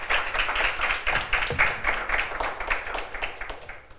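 Audience applause at a panel discussion on the creative economy in cinema, a steady burst of many hands clapping in a hall for several seconds, fairly close and without talk.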